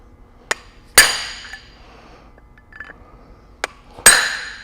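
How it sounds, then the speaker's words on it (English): Two pairs of sharp metallic hammer taps on a Ford 8.8 rear axle part during a gear swap, a lighter tick followed by a loud ringing strike each time, with quiet clinks between. "you can gently tap in opposite holes with a big hammer"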